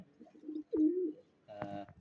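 Jalali pigeons coo in a quiet setting, with a few soft low calls followed by a louder, drawn-out coo and a fuller burst of cooing close by.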